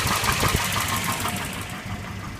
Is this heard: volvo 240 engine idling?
yes